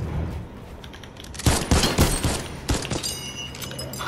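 Shotgun blasts in Fortnite, a rapid cluster of loud booming shots fired back to back, followed by a couple more scattered reports over quiet game ambience.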